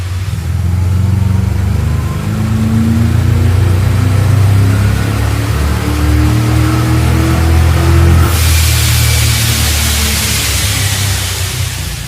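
A supercharged 1967 muscle truck engine roars through a loud dyno pull, its steady drone climbing in pitch for about eight seconds before a harsh broadband rush takes over to the end; nobody speaks.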